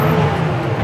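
A 1968 Ford Bronco with a short wheelbase accelerates through the gears, its engine a close, steady, loud drone for under a second with no talking.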